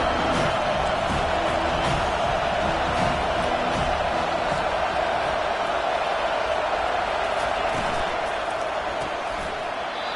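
A large football stadium crowd at a Florida versus UCF game, a steady, loud roar of cheering and noise that holds evenly throughout without pause.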